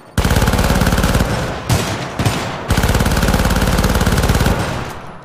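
The hog assault shotgun in the video game Syndicate fires in rapid fully automatic bursts, loud and close, three long strings of evenly spaced blasts separated by short pauses.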